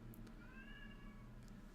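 A male cat yelling indoors with loud, drawn-out meows, one long wavering cry in the middle and brief sharper calls near the start and end, over a steady low hum with no talk.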